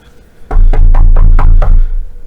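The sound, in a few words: knocking at the door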